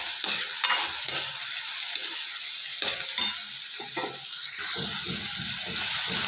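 Green chillies and capsicum sizzle in a pan for vegetable macaroni pasta while a spoon stirs them, with steady frying crackle broken by repeated close scraping strokes and no talk.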